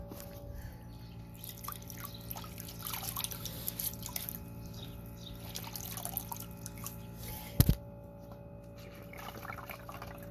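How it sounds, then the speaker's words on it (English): Water drips and trickles from a wrung-out Norwex EnviroCloth into a cup, quiet irregular patters close by with one brief louder knock midway. "without it dripping too much"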